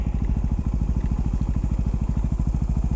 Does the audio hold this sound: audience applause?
no